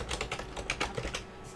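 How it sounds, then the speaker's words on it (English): Rapid keystrokes on a computer keyboard as a password is entered, a brief burst of close, crisp clicks with no talking. "and then I'll type my password"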